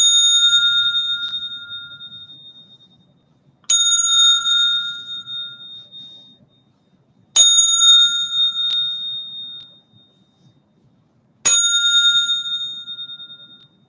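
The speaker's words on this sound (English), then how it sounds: "We're going to hit the bell" A bell struck four times at a steady, spaced interval, each ring sharp and bright before slowly fading into quiet, with a faint low hum between strikes; struck during a spiritual gathering.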